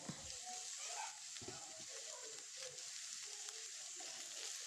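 Onions sautéing in a pan for an egg curry, a faint, steady sizzle with occasional stirring scrapes and light clinks.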